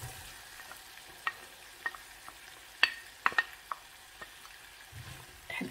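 Onion frying in a pan gives a quiet, continuous sizzle, broken by scattered sharp clicks and scrapes of a utensil stirring it, several in quick succession near the middle.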